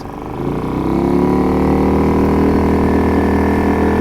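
A small 2.3hp petrol outboard on a tender rises from a quiet idle into a steady, loud, high-revving drone under way on a calm river, the engine note holding continuously close by.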